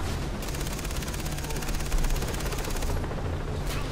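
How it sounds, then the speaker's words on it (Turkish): Far Cry 3 gameplay where a helicopter's rapid rotor chop mixes with dense machine-gun fire, a continuous loud rattling barrage with a slight swell in the middle. "Helikopter sesi mi duyuyorum?"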